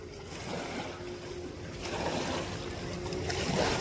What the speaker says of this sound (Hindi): और आप पानी की आवाज़ जो है वो सुन सकते हो